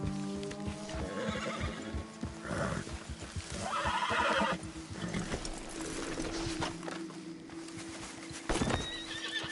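Horses whinny and neigh loudly nearby in the video game Red Dead Redemption 2 while hooves clip-clop over ground, with occasional mechanical clicks in the background.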